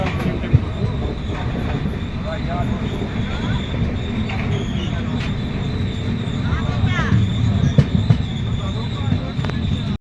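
A passenger train on the Amritsar to Howrah route rolls into a station, with continuous rumble, wheel clatter and occasional metallic squeals, while voices are heard in the background.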